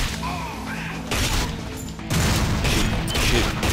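Barrels being shot in GoldenEye Rogue Agent, with dense bursts of gunfire and booming impacts that grow louder partway through, continuous and close.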